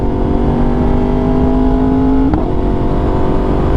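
A Yamaha R1 sport motorcycle holds a steady, loud engine drone that climbs in pitch, then breaks off with a quick exhaust pop on the upshift and carries on at a lower rumble, heard from on the bike.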